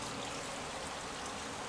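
Cold filtered water poured into a cooking pot, a brief steady rushing stream, close and uniform throughout, with no one talking.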